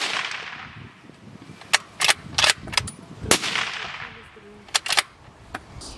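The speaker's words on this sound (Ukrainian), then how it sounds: "стріляли із мисливської гвинтівки Mauser M18 з оптичним прицілом" Sharp gunshots muffled by a sound moderator crack outdoors from a scoped Mauser M18 hunting rifle, a handful spaced irregularly with brief doubled bursts, over steady wind-like background noise.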